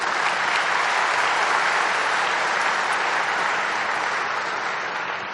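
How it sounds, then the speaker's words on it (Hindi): An audience claps together at a spiritual gathering, a dense, steady burst of applause filling the hall for several seconds and tapering slightly at the end, with no voices over it. "ताली बजा दो।"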